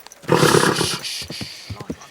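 A horse in the medieval game Kingdom Come: Deliverance II lets out a loud snorting whinny, followed by a few soft hoof clops and shuffles as it settles.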